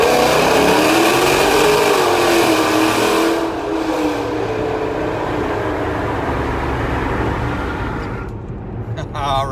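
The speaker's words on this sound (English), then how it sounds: "you gotta love that exhaust noise" Dodge Challenger fitted with a cat-back exhaust, driven with the windows down: a loud, close engine drone that rises and falls with revs, mixed with heavy wind noise and a voice speaking over it.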